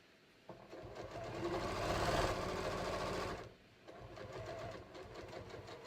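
A sewing machine stitches shorts in a steady, rapid whir, with one longer sustained run followed by a quieter second burst after a short pause.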